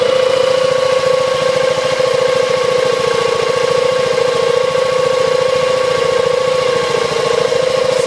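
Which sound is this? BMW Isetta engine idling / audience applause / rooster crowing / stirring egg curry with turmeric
BMW Isetta engine idling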